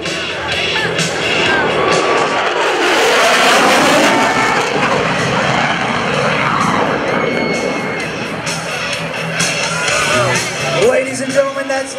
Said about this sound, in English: demonstrate the low altitude, high-speed capability of the F-16